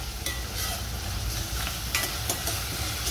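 Onion frying with salt in a pan, a steady close sizzle with a few scraping stirs of a spoon.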